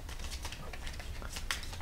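Board game cards being shuffled at a table, a quick soft riffling and crinkly flutter of the deck, brief and fairly close.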